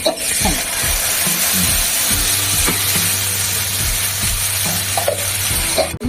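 Chopped green chilli sizzles in a hot pan for a vegetarian chana dal with mixed vegetables, a steady close frying hiss broken by repeated scraping stirs, with no talking.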